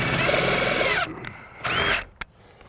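A power drill driving screws into door hardware on a wooden shed, two loud close bursts of whirring, each ending abruptly, followed by a sharp click.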